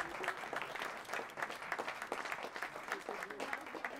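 An audience at a Paris political meeting claps to welcome the national secretary, a dense, even patter of many hands held at a low, distant level throughout, with voices faintly mixed in.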